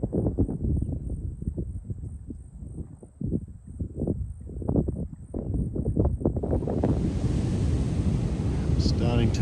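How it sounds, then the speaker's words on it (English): Wind and surf roar along an empty sandy beach, with gusts buffeting the microphone in uneven bursts that swell into a steadier, louder rush toward the end. "There is just endless beach in both directions."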